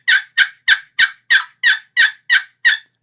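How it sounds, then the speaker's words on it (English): Wooden box call on a turkey hunt, its paddle drawn across the top to make nine sharp, evenly spaced raspy yelps, close and loud with no talking. "in a box call, you literally just pull this paddle across the top here and"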